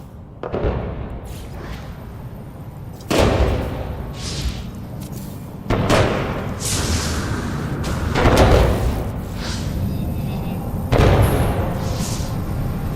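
Fireworks burst repeatedly in the No Man's Sky video game, a string of heavy booms every couple of seconds with crackling, hissing trails and a constant low rumble underneath, no talking.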